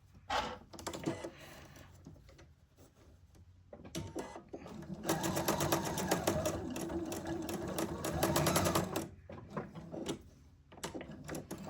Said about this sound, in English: I'm just taking a stitch right next to the one I just sewed